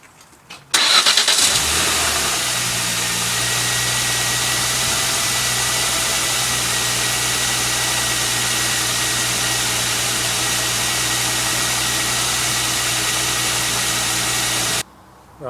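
A Jaguar X-Type engine cranks and catches with a loud burst, then settles into a steady, even idle with a broad whirring hiss, close and continuous for over ten seconds before cutting off abruptly.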